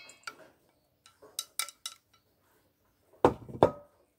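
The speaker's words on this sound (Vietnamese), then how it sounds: "bây giờ mình sẽ để cái phần đu đủ này vào trong cái thau trước" Shredded green papaya is put into a basin for mixing a dried squid papaya salad. A few light clinks and taps on the basin are followed by two louder, heavier knocks near the end.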